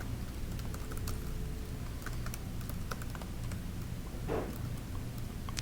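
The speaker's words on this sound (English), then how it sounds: "Here you'll type in the name of the seller." Fingers typing a seller's name on a computer keyboard, a steady run of quick light key clicks over a constant background hum, with one slightly louder keystroke near the end.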